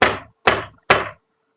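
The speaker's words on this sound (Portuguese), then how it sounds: "tossiu na soleira e bateu 2 vezes na porta" Three sharp, evenly spaced knocks on a door ring out close and loud, each followed by a brief silence.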